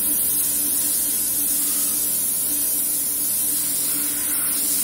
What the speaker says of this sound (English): I have my Wild Image airbrush, and I got some burgundy that I kind of mixed up.